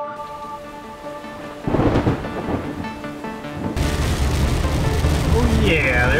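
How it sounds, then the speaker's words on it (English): A loud rumble of thunder rolls in, followed by heavy rain pouring down steadily on a road in Florida with a constant dense hiss, a voice faintly audible underneath. "there's that rain"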